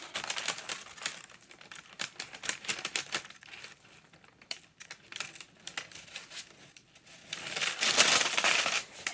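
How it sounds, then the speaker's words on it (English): Parchment paper peeled away while vinyl transfer paper is pressed down during Cricut layering, heard as close, dry crinkling and crackling with irregular bursts and a louder rustle near the end. "we're going to pull away this parchment paper as we press down the transfer paper"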